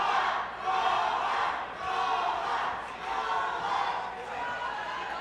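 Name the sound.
crowd cheering for boxer Armando Tovar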